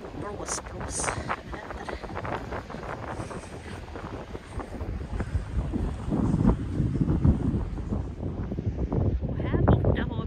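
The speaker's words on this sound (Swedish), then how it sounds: "Blåser det väl här lite när jag filmar" Wind gusts buffet a handheld microphone at an outdoor campground on Gotland, a steady rumbling roar that swells louder toward the end, with some talk and background activity mixed in.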